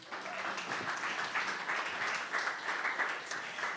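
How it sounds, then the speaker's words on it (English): An audience at an evening startup pitch event gives a sustained round of applause, an even, fairly distant roar of many hands clapping with no break, and no talk standing out. "How about another round of applause for Mr."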